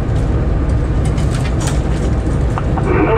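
A freight train of about ten wagons moving slowly during a shunting manoeuvre at Pedra do Sino, giving a continuous loud low rumble with faint metallic squeals and clanks.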